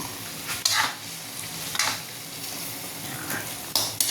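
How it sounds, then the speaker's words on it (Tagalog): Coconut milk goes into a simmering native chicken curry with a soft steady sizzle and bubbling, broken by several sharp scrapes and clinks of a utensil stirring against the pan. "Lagyan natin ng gata guys. Para manuot."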